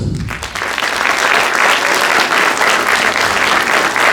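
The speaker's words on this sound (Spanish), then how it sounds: "La recibimos con un fuerte voto de aplausos" Steady applause fills a seminar hall as a guest speaker on paint-related damp pathologies is welcomed, a dense, even clapping from an audience that holds loud throughout.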